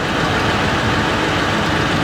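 A Ford Crown Victoria P71 engine idling after a thermostat replacement, a loud, steady, unbroken rumble with a dense broadband drone and no voices.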